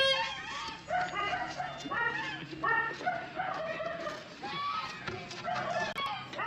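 Free-range village hens cluck and chatter nearby in a busy, overlapping stream of short calls, with a dog barking faintly now and then.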